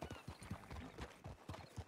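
Horse hooves clip-clop in a steady, close rhythm in the RedM roleplay game, clear and alone.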